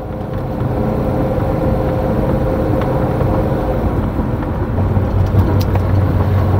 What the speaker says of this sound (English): there's no drone, just got loud exhaust out back